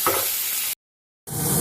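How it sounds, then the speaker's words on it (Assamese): Potato and papaya peel fry in a pan, giving a loud, close sizzle with stirring, broken by a short silent gap before the sizzle returns. "জুই ফ্লেমটো বঢ়াই দিব, আৰু অলপ ফ্ৰাই কৰিব"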